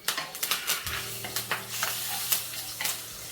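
Spices — black pepper, cardamom and curry leaves — stirred in a hot frying pan, a steady sizzle broken by repeated scraping clicks of a spoon against the metal, close and clear with no voices.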